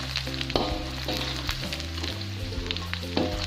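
Salted fish frying in oil in a Sundanese kitchen, continuous close sizzle and spatter with occasional stirring scrapes, over a low background hum, with no voices.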